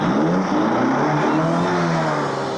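A car engine revs hard and holds a loud, rising mechanical roar that stays continuous and dominant throughout, with no voices over it.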